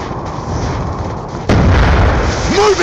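A frag grenade goes off in a combat video game: a sudden loud boom halfway through cuts over background battle noise, then rumbles on as a heavy low blast.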